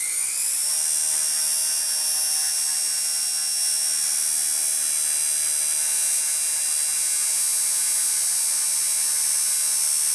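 An 8100kV 8mm inrunner electric motor in a UM 4:1 gearbox spins up quickly, then holds a steady, loud, high-pitched electric whine with a buzzing hum underneath for the whole stretch.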